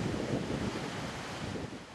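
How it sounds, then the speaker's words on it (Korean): Large 78-metre waterfall at Plitvice, the tallest there, giving a steady broad roar of rushing water that holds at an even level throughout, with no voices. "높이 78m, 플리테비체에서 가장 높은 폭포인데요."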